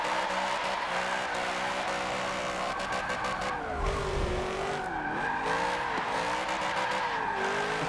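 A car drifting in the racing game Forza Motorsport 7 on a drift suspension setup, its engine droning steadily while tires squeal and skid continuously through the corner, rising and falling in pitch.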